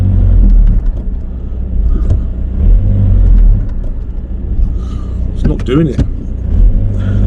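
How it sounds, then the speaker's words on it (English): A car with a PD150 engine drives along with a steady low rumble that rises briefly when revved, and someone talks over the engine noise. "Let's go for a little drive."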